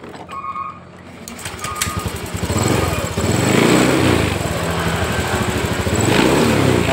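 A Honda Beat ESP scooter engine, being tested for a fault that flashes the check-engine light, starts up and revs steadily, loud and close with a rough, buzzing drone that rises and holds, with faint bird chirps early on.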